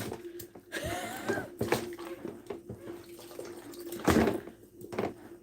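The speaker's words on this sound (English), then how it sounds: "just want to you know, dip it in, dip it around, make sure it's all fully immersed" A cuddly toy is dipped and swirled in a basin of water with washing-up liquid, giving close splashing and sloshing bursts with gurgles, loudest in one strong splash near the end; no talking.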